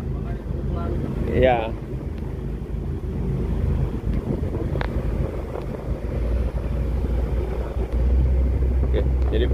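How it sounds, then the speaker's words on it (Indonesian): Wind buffets steadily against a boat and the microphone, a continuous low roar lasting the whole stretch, with a brief spoken reply and a few creaks and knocks on board. "Pas kedorong angin juga ini. Anginnya dari kanan."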